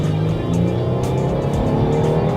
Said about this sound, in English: Best to turn the radio off and just listen to the engine